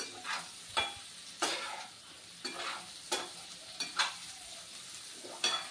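Soaked sabudana khichdi with raisins is stirred in a pan, with rhythmic scraping strokes roughly every second over a soft, faint sizzle.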